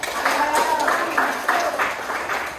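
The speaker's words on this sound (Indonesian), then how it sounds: "Kasih tepuk tangan biar semangat." Students in a classroom clap to cheer a group on, a short run of rhythmic, moderately loud clapping mixed with voices.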